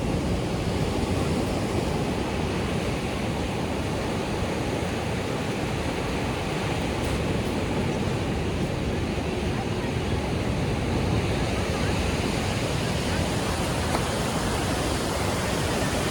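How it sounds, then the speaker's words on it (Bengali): Ocean waves break steadily on the beach at Puri in the early morning, a continuous loud wash of surf with no pauses and no voices. "মানে সমুদ্র ফাটাফাটি লাগছে"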